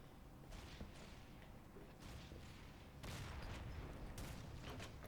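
Gunfire in the WWII strategy game Sudden Strike 2, with scattered distant shots and small bursts popping over a steady rumble of battle, growing a little louder and busier partway through.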